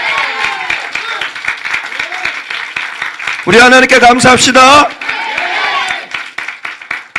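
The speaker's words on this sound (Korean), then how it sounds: "우리 하나님께 박수로 영광 돌리겠습니다" A church congregation at a Sunday morning worship service breaks into a short loud burst of applause and cheering partway through, while a preacher's amplified voice talks before and after it.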